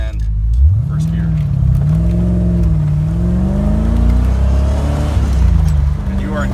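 A 1984 Corvette C4 engine pulls away in first gear, its low exhaust note climbing steadily and loud up close, with a brief rev dip midway and a continuous rumble throughout; no one speaks.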